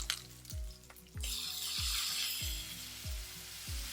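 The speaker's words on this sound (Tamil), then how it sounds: "வெங்காயம், இஞ்சி பூண்டு, தக்காளி பழம் போட்டு நல்லா வதக்கிறோம்." Mutton with onion, ginger garlic and tomato sizzles softly in a pan as a Nilgiri korma cooks, with a steady frying hiss broken by regular scraping stirs.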